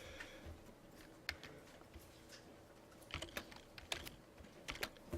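Typing on a computer keyboard, scattered crisp keystrokes at an irregular pace, quiet and close, with a small burst of quicker taps toward the end.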